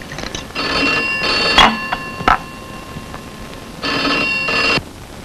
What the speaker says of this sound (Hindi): अरे मेरे देखो किसका फोन है